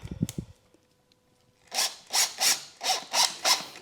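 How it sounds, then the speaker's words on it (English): Three-inch sheetrock screws are driven into wood while building a planter box. After a brief knock and a pause, a close series of six rhythmic, gritty bursts follows, evenly spaced, with no talking. "Works good to just start the screws first."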